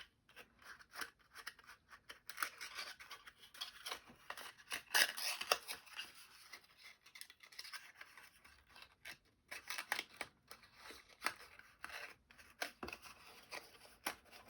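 A paper gift box for chocolates is folded and its tabs tucked in, producing soft crinkles, creases and papery rustles close by but quietly, in irregular bursts.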